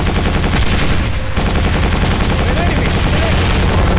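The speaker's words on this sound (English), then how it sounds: "I'm busy shooting. Shooting enemies and saving your ass." Rapid gunfire in the video game Quake 4, a dense continuous volley of shots running loud throughout with faint voice traces underneath.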